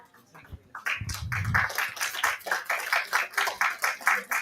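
Audience applause at an evening transformation-story event, starting after a brief low murmur and settling into a steady rhythmic clapping that swells and dips in regular pulses, fairly close and dense.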